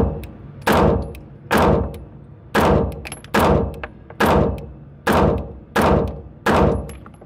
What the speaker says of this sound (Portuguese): Então, primeiro 10 tiros.